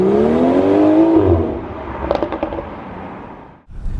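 A 2018 BMW X3 M40i sports SUV pulls away with a rising engine note, loud and close at first, then easing off into quieter road noise with a few brief clicks before cutting out.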